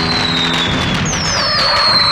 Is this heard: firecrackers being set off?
yes